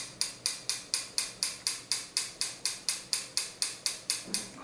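Scissors make a steady series of about fifteen evenly spaced crisp snips while cutting natural layered bangs, heard close and alone.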